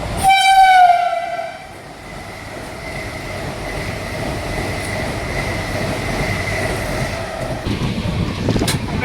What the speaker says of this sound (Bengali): এই হচ্ছে ট্রেন